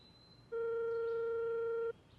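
A telephone call tone on a line being dialled: one steady electronic tone with even overtones holds for about a second and a half, then cuts off, over a faint background hiss.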